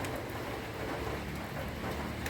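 Steady, dense rain pours down close by, a continuous hiss of drops on surfaces with no break.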